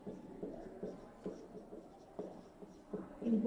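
Handwriting a paragraph on paper, short scratchy pen strokes coming in bursts with brief pauses, close and fairly quiet.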